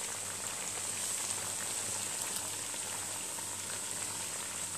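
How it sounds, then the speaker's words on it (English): Steady crackling sizzle of potatoes and spinach frying in a pan, continuous and even throughout, with a faint low hum underneath and no voices. "As you can see, it's frying."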